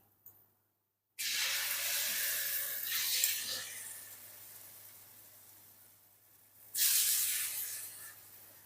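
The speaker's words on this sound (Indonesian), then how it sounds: "Lagi goreng dulu baru makan." Flour-coated potato pieces frying in hot oil give a loud, broad sizzling hiss that starts abruptly, slowly fades, then surges again as more goes into the pan.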